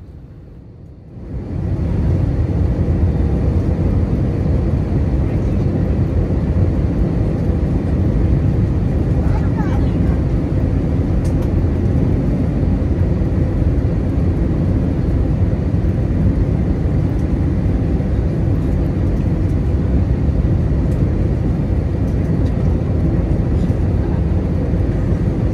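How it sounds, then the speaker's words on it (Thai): AirAsia airliner landing at Penang International Airport in rain, heard as a steady, loud, broadband roar of engine and airflow from inside the cabin, continuous after a brief quiet start. "ก็ลงจอดที่ท่าอากาศยานนานาชาติปีนังกลางสายฝนนะครับ"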